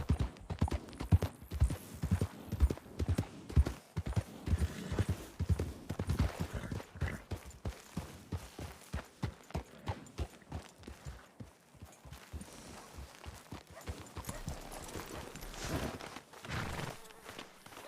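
Horse hooves clip-clopping at a steady walking pace in a video game, close and fairly loud, with the rhythm slowing and thinning toward the end over faint background ambience.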